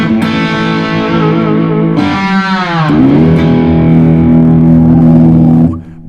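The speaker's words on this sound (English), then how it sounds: "Now let's switch it over to the crunch." An electric guitar played through the crunch channel of a Blackstar Dept 10 amp, loud and close. Sustained chords ring out gritty and saturated, shift partway through with a bend, then cut off near the end.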